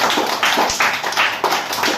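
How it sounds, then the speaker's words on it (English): A group of students in an English class clap their hands together in a steady run of sharp, fairly loud claps, about seven or eight bursts over two seconds with no talking. "Clap your hands."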